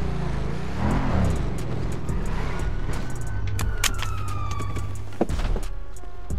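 A police car siren in a GTA role-play game wails under a continuous rumble of in-game traffic and engine noise, with a few sharp knocks and clanks.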